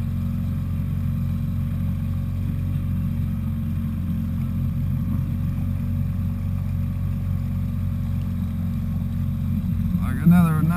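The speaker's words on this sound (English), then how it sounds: "Shut the motor down so I can talk here a little" A fishing boat's outboard motor runs steadily at close range with a constant low drone, then shifts abruptly at the very end as it is shut down.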